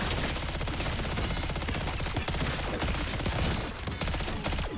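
Rapid automatic gunfire from a weapon in Call of Duty zombies mode on the Terminus map, a dense, continuous loud burst of shots with brief breaks, no talking.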